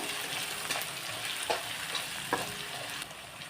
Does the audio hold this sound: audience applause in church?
no